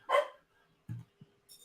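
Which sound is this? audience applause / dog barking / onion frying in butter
dog barking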